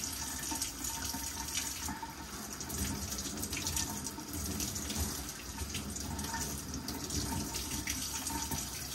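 Tap water runs steadily into a sink to soak a sheet of paper for Waldorf painting, a close, continuous rushing splash with slight shifts as the paper is moved under the stream.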